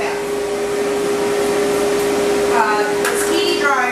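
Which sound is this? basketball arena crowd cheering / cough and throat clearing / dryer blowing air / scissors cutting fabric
dryer blowing air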